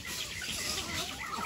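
Hens clucking steadily in a farmyard in Loma de Cabrera, a dense continuous flock murmur with no voices over it.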